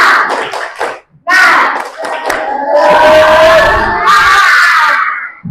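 A group claps in a quick pattern and breaks into loud, excited shouting and chanting together, close by, in an Indonesian spirit-clap cheer.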